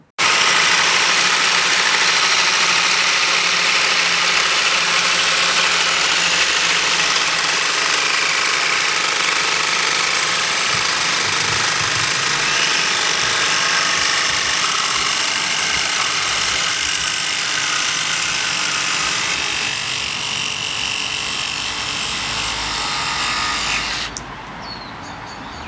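Cordless jigsaws from Milwaukee, HiKoki, Makita and DeWalt cutting in a side-by-side test, a loud steady buzzing drone of the blade and motor held for about twenty-four seconds before dropping off abruptly.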